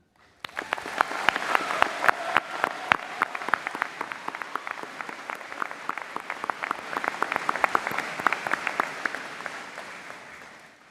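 Sustained applause from a college convocation audience, many hands clapping steadily for about ten seconds before tapering off slightly near the end, with no voices over it.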